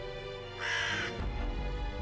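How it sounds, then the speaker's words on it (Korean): A crow gives one loud caw in the Nikke video game, over a steady low ambient game hum, followed by a soft rustle with no speech. "까마귀야."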